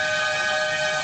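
Loud, sustained horn blares on a road, a steady continuous tone from trucks honking, with no talk over it.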